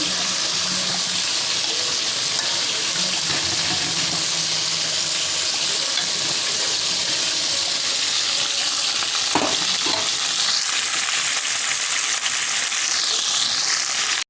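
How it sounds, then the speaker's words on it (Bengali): Eggplant frying in hot oil gives a loud, steady sizzle, with a couple of brief clinks partway through and no talking. "বেগুনগুলো ভাজা হোক"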